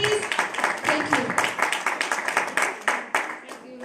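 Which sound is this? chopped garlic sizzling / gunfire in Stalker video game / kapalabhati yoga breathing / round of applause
round of applause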